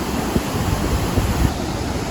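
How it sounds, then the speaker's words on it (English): Water pouring out below Dudhsagar waterfalls in Goa during the monsoon, a constant loud rushing wash mixed with wind buffeting the microphone, with no talk. "this is where the water flows out."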